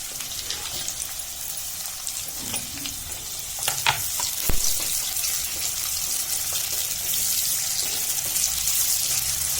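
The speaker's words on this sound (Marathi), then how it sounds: "आता आपण कांदा टाकूया" Chopped onion sizzling steadily in hot oil in a pan while cooking a fenugreek-leaf (methi) vegetable dish, with occasional stirring clinks and scrapes, close and continuous with no talk.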